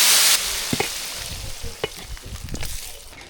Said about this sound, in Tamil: வடை போட்டுக்கிட்டு இருக்கிறோம்